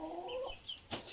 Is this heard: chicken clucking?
yes